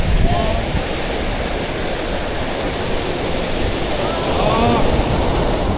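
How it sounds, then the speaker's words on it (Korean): Ocean waves wash against a fishing boat off Bluff, New Zealand, as a loud, steady rush of surf mixed with wind noise. "파도 빠지지 지금 파도 빠질 때"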